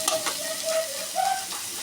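Onions frying in a little oil in a home kitchen pan, a close, continuous crackling sizzle with bright popping spits and faint stirring scrapes.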